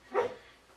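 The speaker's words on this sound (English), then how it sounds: "you might hear my dog barking." A single short bark or yip from a pet dog sounds faintly from another room, a brief muffled burst with nothing else around it.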